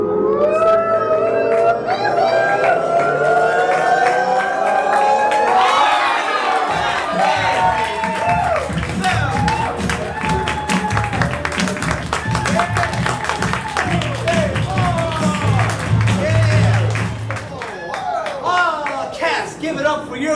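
A studio audience at the show All Hands on Deck shouts the show's name in unison, then breaks into loud cheering, whooping and applause that stays dense and continuous.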